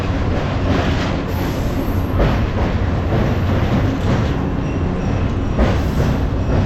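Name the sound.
local train running past Kolaghat station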